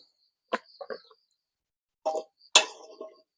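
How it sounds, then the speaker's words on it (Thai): Mushrooms and pumpkin for a Thai chicken curry are dropped into water in a pot, giving a few short separate plops and splashes spread over a few seconds, close and moderately loud with silence between. "เอาเห็ดใส่น้ำนะครับ เอาเห็ดใส่ลงไป พร้อมกับปักทองนะครับ"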